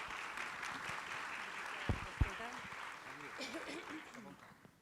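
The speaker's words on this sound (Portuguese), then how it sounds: "Uma salva de palmas para a Juliana, por favor." Faint, distant applause from a forum audience welcoming a panel speaker, soft continuous clapping with a couple of sharp thumps, and voices talking over it.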